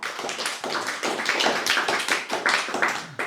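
Hand clapping from a gathered audience at a religious study session, a dense, steady round of claps with no talking over it.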